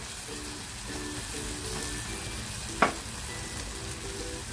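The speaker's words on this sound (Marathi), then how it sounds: "बघा मसाला छान फ्राय झालेला आहे" Egg masala spice paste sizzles steadily in a pan, a close, even crackle of frying with one sharp clack of a utensil partway through and no talking.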